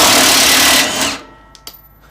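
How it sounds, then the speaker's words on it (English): A 1/2-inch drive impact wrench rattles loose a deck nut on a John Deere X380 lawn tractor's 48-inch mower deck, a loud, close buzzing burst of about a second that stops abruptly, followed by faint clinks. "I'm gonna use my 1/2" drive N12 impact."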